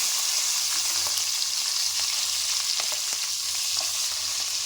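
Green chilies fry in hot oil with garam masala, a dense, steady, bright sizzle with light crackles and a few stirring taps, close and continuous, with no talk.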